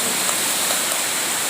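Kuta Malaka waterfall, a dense, steady rush of falling water that fills the whole short stretch at a constant, fairly loud level.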